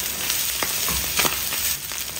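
Ground beef fries in a pan for nachos with a steady, close sizzle, and a few stirring scrapes rise briefly above the crackle.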